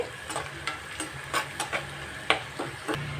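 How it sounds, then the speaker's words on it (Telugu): Eggplant frying in a pan with curry leaves for a coconut-chilli eggplant dish, a continuous sizzle broken by regular scraping stirs of a spatula, close and alone. "ఇలా ఫ్రై అయ్యేటప్పుడే కాస్త కరివేపాకు కూడా వేసుకున్నాము"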